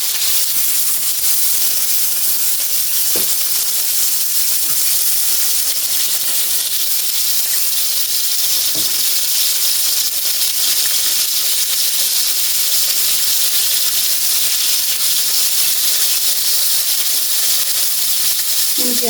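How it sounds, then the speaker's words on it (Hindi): Half-fried kebabs on a hot tawa griddle give a loud, steady hiss and sizzle that carries on without a break, with a few faint knocks partway through. "कलर देने के लिए मैंने हाफ फ्राई कबाब इधर तवे पे ट्रांसफ़र कर लिए हैं"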